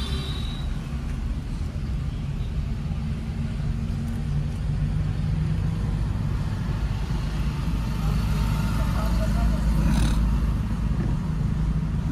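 A car on its first day of driving practice rumbles low and steady, its engine building gently as it speeds up in first and second gear, with no voices over it.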